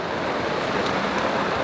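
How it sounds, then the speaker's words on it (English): Heavy rain pours down on a boat, a dense, loud, steady roar of drops drumming on the deck and hatch, continuous and with no talk. "Just as well we shut that hatch before the downpour really begun."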